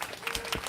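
Brief burst of audience applause at a Unification Church peace prayer meeting, dense broadband clapping from a crowd, steady and fairly close, over a short stretch.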